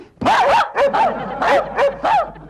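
A person imitates a dog barking, voicing five loud, close, yappy woofs in an uneven rhythm over a couple of seconds during a comedy scene.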